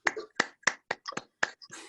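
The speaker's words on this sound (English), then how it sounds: "please join me in a virtual applause for the fantastic panel that we have had today" Several sharp, isolated hand claps or snaps from panel participants on a virtual call, about seven crisp bursts in an uneven rhythm, close to the microphone with silence between them.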